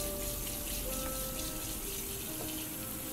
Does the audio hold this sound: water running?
yes